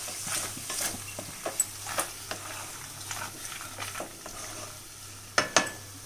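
Pink sauce pasta with mozzarella cheese and grated carrot is stirred in a pan, giving soft scraping and faint sizzling with a few sharper clinks of the spoon against the pan.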